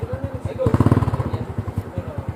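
A motorcycle engine runs close by in a steady, rapid low throb that pulses evenly throughout, with people talking over it.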